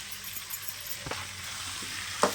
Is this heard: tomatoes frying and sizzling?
yes